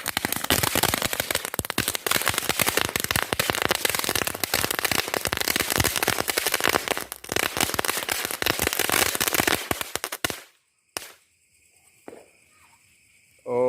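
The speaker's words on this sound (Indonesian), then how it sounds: "seperti itu dia petasan green lightning" A string of green lightning firecrackers rattles off in a fast, dense burst of sharp cracks lasting about ten seconds, then cuts to near silence with a few faint pops and a brief noise at the end.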